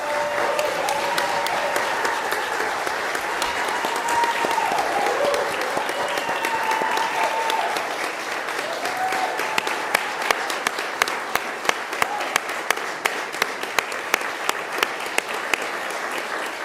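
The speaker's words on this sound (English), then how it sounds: "So let's give them a round of applause." Sustained applause fills a city council meeting in Chelsea, Massachusetts, a steady dense clapping crowd lasting throughout, with a few sharper individual claps standing out near the end.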